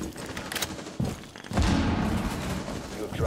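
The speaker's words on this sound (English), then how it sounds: "Frag grenade out!" A frag grenade detonates during a Rainbow Six Siege round: a sharp blast near the middle is followed by a loud, sustained rumble of debris and gunfire-like crackle, with a voice briefly heard underneath.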